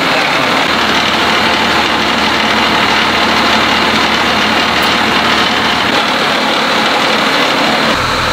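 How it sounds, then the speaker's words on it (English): Steady, loud, close idle of a car engine driving a transfer case propeller drive system, a constant rumble and whir with no talk, continuing unchanged throughout. "Of course, the engine's just idling."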